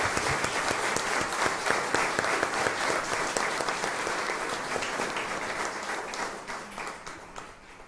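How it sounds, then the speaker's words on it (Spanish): A congregation applauds during a Catholic Mass, with dense, sustained clapping from many people that holds steady and then slowly tapers over several seconds. "Vamos a darle un gran aplauso a las hermanas carmelitas que nos están escuchando."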